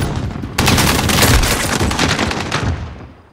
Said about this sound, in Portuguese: é um tiro do carro só